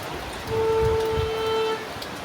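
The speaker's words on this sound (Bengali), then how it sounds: "দেখো প্রচণ্ড বৃষ্টি হচ্ছে।" Heavy rain pours onto leafy taro plants in a garden, making a steady, dense hiss throughout, with a sustained horn-like tone sounding through the middle stretch.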